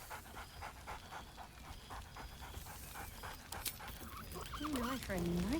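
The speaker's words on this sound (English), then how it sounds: "Scratch barks merrily in something like agreement." Scratch, a dog in the fantasy video game Baldur's Gate 3, pants steadily in rhythmic breaths, then gives a few short barks and whimpers near the end, with game ambience and some voice underneath.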